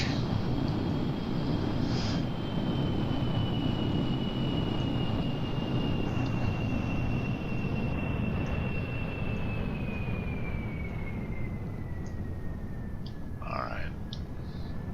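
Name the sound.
aircraft engine throttling back in Kerbal Space Program video game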